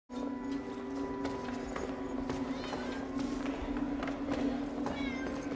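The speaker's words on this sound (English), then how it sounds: "Ah, they're the cats." Cats meow from a House of the Dragon episode, with several short, rising cries over steady background hum and murmured voices.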